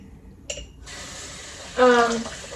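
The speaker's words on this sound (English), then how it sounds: "So I'm gonna just clean this with soap and water." A plant pot is washed with soap under running water, a steady faucet stream rising into louder splashing, with a short clatter first.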